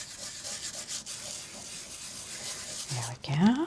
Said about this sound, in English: We're going to burnish that in.